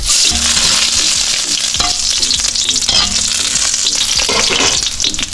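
Garlic frying in hot cooking oil, a loud, dense, steady sizzle with crackling bursts and occasional stirring through the whole stretch, with no voices.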